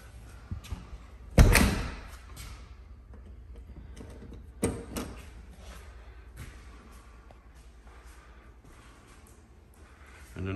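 A front door bangs shut with a loud thud, then gives a second softer knock a few seconds later, followed by faint clicks and rustles in a quiet room.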